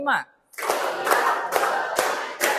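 A standing group of students claps in counted unison, five sharp synchronized claps at an even rhythm, loud and close, following a brief voice at the start.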